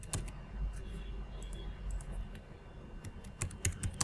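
Fingers type on a computer keyboard during a software admin session, with irregular quick key clicks that are sometimes clustered and sometimes spaced, close and moderately quiet, with no talking.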